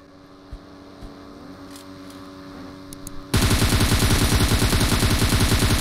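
Gunfire in PUBG Mobile starts abruptly after a quiet stretch of faint ticks and becomes a loud, dense, continuous rapid-fire burst that runs to the end.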